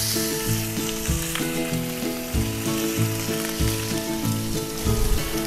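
Bacon fries in avocado oil in a skillet for a chicken pot pie, a loud, close, constant sizzle running over a steady rhythmic tonal backing, with no speech.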